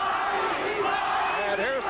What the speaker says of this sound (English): here's the crowd again chanting for Chacon